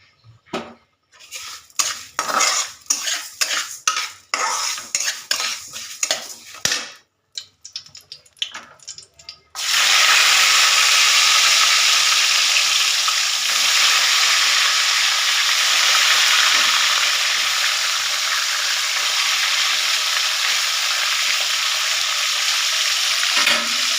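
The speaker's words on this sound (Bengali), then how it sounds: "আমি গোবিন্দভোগ চাল আর মুগ ডাল একসঙ্গেই ভেজে নেব" Mung dal and gobindobhog rice frying together in ghee: a stretch of clinking pots, pans and cutlery gives way to a loud, steady, close sizzle that runs unbroken to the end.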